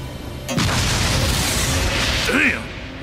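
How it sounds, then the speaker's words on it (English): A reactor device bursts in the video game Agents of Mayhem, a sudden booming blast that rolls into a sustained roar with crackling debris, with a voice briefly audible near the end. "That thing blew right up."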